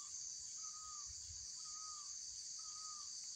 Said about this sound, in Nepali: सो तपाईँहरू यहाँ चरा चुरुङ्गीहरूको कराएको सुन्न सक्नुहुन्छ,